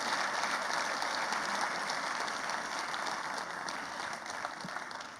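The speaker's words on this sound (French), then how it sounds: "sous vos applaudissements" Audience applause at a formal ceremony launching a national research programme, filling the room as a steady, dense wash of clapping for several seconds, with slight fading toward the end.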